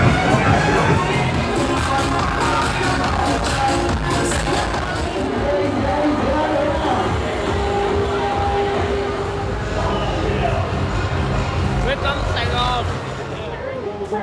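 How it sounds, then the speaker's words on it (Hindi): Loud, dense crowd din fills Bui Vien walking street in Ho Chi Minh City at night, with steady babble, shouts and cheering over pounding music from bars where people sit drinking beer and watching dancers, continuing unbroken throughout. "बहुत ज्यादा लाउड है, बहुत ज्यादा शोर शराबा भीड़ भाड़, लोग बैठ कर बियर पी रहे हैं, डांस देख रहे हैं"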